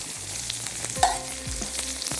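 Sliced onions fry on a tawa for keema and give off a continuous crackling sizzle nearby. A few soft clinks and scrapes sound over it, and nobody speaks.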